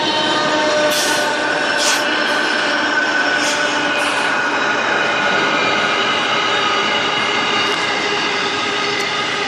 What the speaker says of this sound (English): Sweet, so it's just paused for the train to go past.